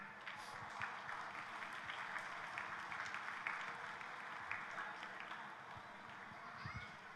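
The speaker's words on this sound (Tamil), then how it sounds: "உங்களுடைய கைத்தட்டல்கள் ஓசையோடு" Faint applause from the audience at a school award function in Kovilpatti, heard as a dense, even crackle of many hands clapping from a distance for several seconds.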